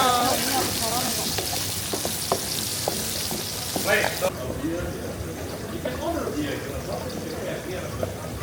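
Food sizzles and crackles loudly in a hot wok at a cooking class in Bali, with scraping stirs and a voice talking over it, before the frying settles quieter.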